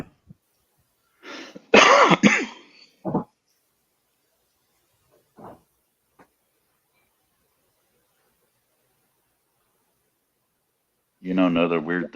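Dry coughs and throat clearing from a smoker with a tickle in the throat: a cluster of harsh, close bursts early on, a couple of short isolated clears later, then a voiced throaty rasp at the end, with quiet gaps between.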